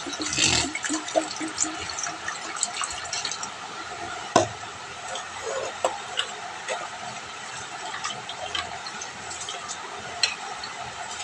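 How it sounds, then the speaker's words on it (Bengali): Water pours into bottles at home, a steady gurgling fill with occasional small clinks and taps over a constant rushing background. "বোতলে জল ভরে রাখি বোতলে জল ভরলে সুবিধা হয়"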